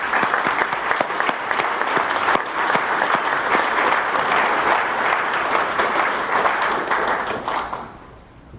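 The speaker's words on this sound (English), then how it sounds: "Let's give them a round of applause" A conference audience at the 24th Leakage Conference claps in sustained, dense applause that holds steady for several seconds, then fades quickly at the end.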